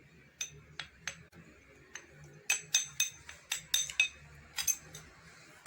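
A spoon clinks against a glass or metal bowl while cinnamon is stirred into a warm pudding mixture, giving irregular bright taps, some in quick clusters, close and fairly quiet, with a soft low hum behind.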